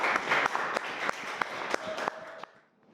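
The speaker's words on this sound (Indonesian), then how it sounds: "Beri tepuk tangan untuk kelompok 3." A classroom of students applauds a student group after their presentation, with a dense burst of clapping that carries on for over two seconds and then fades out, heard nearby.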